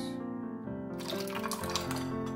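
Lemon juice is poured into a blended beetroot, amla and hog plum juice, a steady liquid trickle and splash playing close and clear over a sustained musical background.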